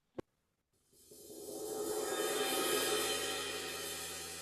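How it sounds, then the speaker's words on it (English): Cymbal roll played with mallets, opening with one short tap, then a washy shimmer that swells in quickly and sustains loud and steady to the end, with no voices. "You can do rolls on them like a soft mallet or hard mallet."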